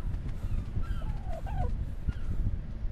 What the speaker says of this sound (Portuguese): Esses pássaros que ficam voando aí são extremamente chatos